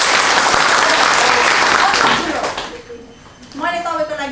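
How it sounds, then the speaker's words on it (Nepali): A roomful of people clapping hard during a teaching workshop for early childhood educators: loud, dense applause for about two seconds that fades out, followed by a voice speaking. "म्यामको लागि हामीले यत्रो ताली बजायौँ"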